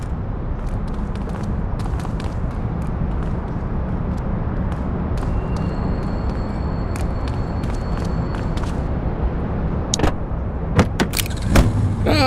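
A car driving in the video game The Precinct: a steady engine and road rumble runs throughout, with a few brief clicks and jingling touches near the end.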